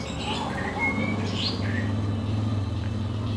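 A perkutut (zebra dove) with a jambul kedaton crest coos in a low, steady, repeated call, mixed with faint chirps from other birds and a soft background hum.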